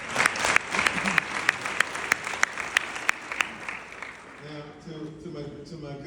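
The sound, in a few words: audience applause at TRIO award speech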